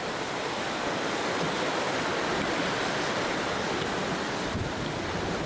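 Water rushes steadily at a stream beside a trail campsite on the Colorado Trail, a loud, unbroken wash of flow close to the microphone that never lets up, with no talking.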